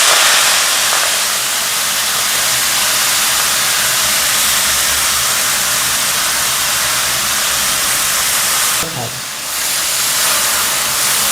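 Fenugreek greens dropped into a pan of frying chicken curry give a loud, steady broadband sizzle and hiss, close up and continuous throughout, with a brief dip and burst near the end.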